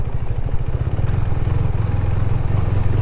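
A 2018 Husqvarna Vitpilen 401 motorcycle engine rumbles steadily up close with a rapid, juddering vibration as its tyres rattle over cobblestones.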